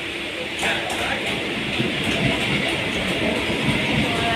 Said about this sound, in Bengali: আমাদের ট্রেনটা দাঁড়িয়ে আছে সাতটা চারের ট্রেন